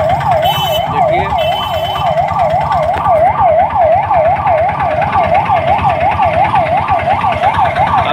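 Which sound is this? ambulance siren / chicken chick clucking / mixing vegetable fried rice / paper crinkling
ambulance siren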